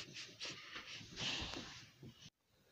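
Close, quick nasal sniffs and snorts from a cartoon character searching for cereal, several short bursts in a row, then sudden silence.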